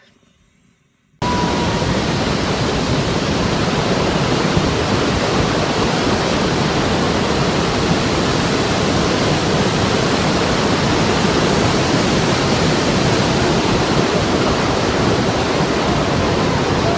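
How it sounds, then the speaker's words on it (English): Water left running gushes in a loud, steady torrent, starting suddenly after a moment of near silence and rushing on without a break. "I forgot to turn off the water."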